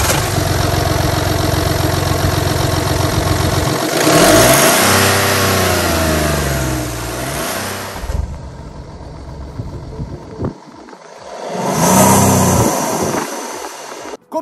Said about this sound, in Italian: Ma adesso quello che ci interessa capire è l'accensione,